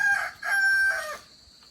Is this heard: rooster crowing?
yes